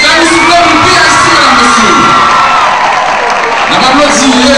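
Loud crowd cheering, whooping and shouting for the artist B.I.C. at a live stage show, with voices rising and falling in a continuous roar, clapping faint beneath.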